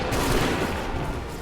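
Musket volley fired in Assassin's Creed 3 Remastered on Xbox One: a dense, loud burst of overlapping shots that blurs into one continuous roar.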